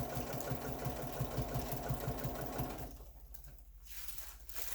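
A domestic sewing machine stitches pantograph machine quilting in a fast, even rhythmic chatter for about three seconds, then stops, leaving quiet room sound.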